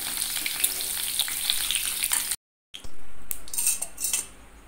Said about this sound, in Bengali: জাস্ট হালকা করে একটুখানি ভেজে নেওয়ার পরে ডিমগুলোকে তুলে নিতে হবে।